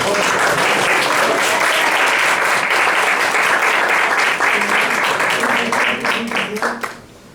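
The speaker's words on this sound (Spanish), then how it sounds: "yo creo que se merece un aplauso, ¿no?" An audience at a mountain-heritage lecture applauds a speaker, with dense sustained clapping for about six seconds that fades out near the end.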